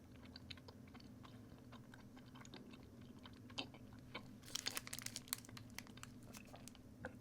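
Someone wearing dentures chews a Payday peanut candy bar, soft crunching and clicking bites repeating close to the microphone, growing louder and crunchier toward the end, with no speech.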